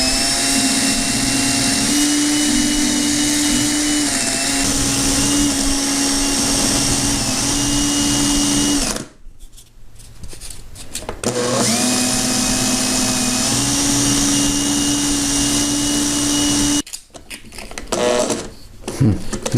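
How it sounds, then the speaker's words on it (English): Power sanding of an oak kitchen shelf with abrasives, a loud steady motor whine that runs for long stretches and cuts off twice before restarting. "it might allow me to run some abrasives on there and round it over a bit."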